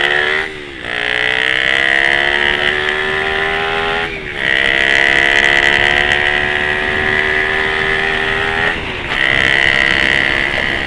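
A Honda C70 motorcycle fitted with a Suzuki Satria F150 engine roars loud and steady with a buzzing exhaust, dipping briefly twice as gears shift before climbing again.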